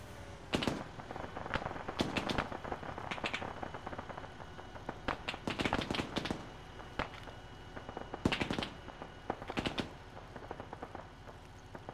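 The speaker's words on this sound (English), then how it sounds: "I could have sworn that gunfire was close." Gunfire in the military shooter game Arma 3 comes as scattered sharp cracks and short bursts, some fairly close and others farther off, spread irregularly over a quiet background.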